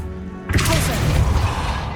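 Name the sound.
Pulso force spell impact in Hogwarts Legacy video game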